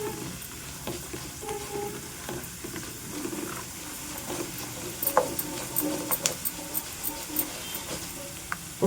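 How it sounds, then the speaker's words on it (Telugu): Tempering seeds crackle in hot oil while being stirred for gongura pulihora, a low sizzle with irregular pops and ticks that grow denser and louder in the second half. "ఎన్ని చిటపట్లాడేలాగా తిప్పుకుంటూ చిటపట్లాడేలాగా వేయించుకోవాలి."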